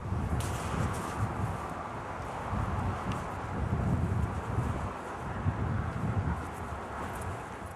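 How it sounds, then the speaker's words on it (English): Steady wind blowing outdoors in cold, snowy conditions, a constant broad rushing roar buffeting the microphone for the whole stretch, no voices. "It is really cold and windy out here"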